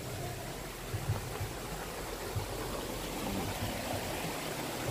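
Waterfall at Bolinao Falls, water pouring down in a steady broadband rush that holds at an even level throughout, with no voices over it.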